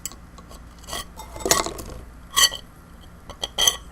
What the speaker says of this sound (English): Sounds like moving dishes.